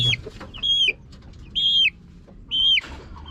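Chickens in Nueva Ecija, their beaks slightly trimmed, give about four short, clear calls at steady intervals, close by over a quiet farmyard background with no talking.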